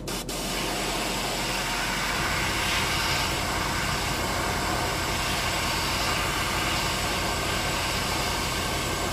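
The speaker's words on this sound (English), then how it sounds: "Hopefully my compressor isn't too loud for you guys." An airbrush compressor runs steadily throughout, a constant near hum with a broad hiss, alone with no talking.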